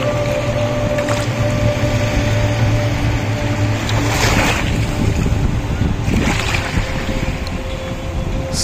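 Sea waves wash onto Puri beach in Odisha, a steady broadband roar with wind buffeting the microphone and two louder surges of breaking surf about two seconds apart.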